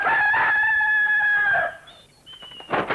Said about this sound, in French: Moi, je suis un beau coq.